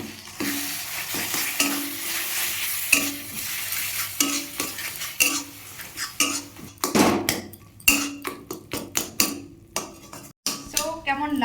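Peeled roasted eggplant is stirred in a hot wok, giving a soft sizzle under repeated metal scraping and clanks of a spatula against the pan that grow busier and more rhythmic toward the end.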